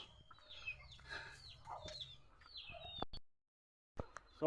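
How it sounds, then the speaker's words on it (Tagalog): Chickens in a farm coop cluck and chirp softly at close range, with scattered bird calls, a brief pause of near silence, then a sharp noise at the end. "nandito na tayo sa kulungan ng mga manok at saka ng bibi"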